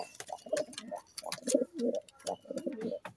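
A pair of Madras giribaz pigeons coo close by in repeated soft, throaty bursts that swell and fade, with a few faint clicks around them.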